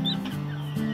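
An Índia combatente hen, a Brazilian fighting-breed hen that laid over twenty eggs before going broody, gives low, steady clucking close by, with a brief pause midway and no talking.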